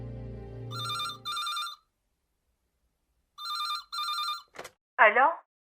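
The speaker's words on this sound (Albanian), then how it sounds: "Kështu që telefonova Marlin." A telephone ring tone sounds in two pairs of short trills separated by a pause, clear and close, followed by a brief click and a short spoken greeting.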